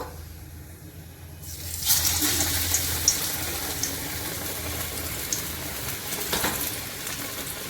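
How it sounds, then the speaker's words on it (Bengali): A coated sandwich drops into hot oil for deep frying in a wok. A sudden sizzle starts, then a steady crackling, bubbling hiss continues close by. "এটা ভেজে নেব ডুবো তেলে"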